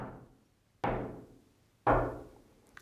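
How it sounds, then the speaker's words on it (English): Two distinct knocks on a neighbour's door, spaced about a second apart, each sharp and resonant with a quick decay, during a Christmas custom of carrying statues of the Holy Family from home to home. "they knock on their doors"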